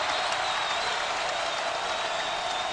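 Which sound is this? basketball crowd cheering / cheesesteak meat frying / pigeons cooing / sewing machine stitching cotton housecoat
basketball crowd cheering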